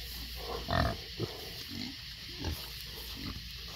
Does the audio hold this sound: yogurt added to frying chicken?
no